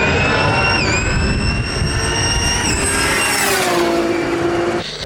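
A loud, steady high-pitched turbocharger whine from a 1000+ horsepower Nissan GT-R engine, pitch dipping and rising slightly as it runs, then dropping off near the end.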